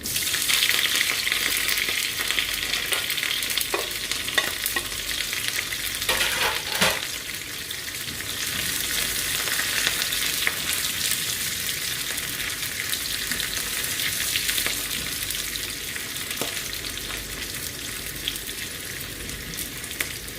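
Continuous loud crackling sizzle of onions and curry leaves frying in hot oil with spluttered mustard seeds, with a few faint taps from a utensil along the way.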